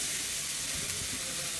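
Ground pepper, fennel and cumin masala sautéing in a pan, giving a soft, steady sizzle and hiss throughout, fairly quiet and close, with no voices.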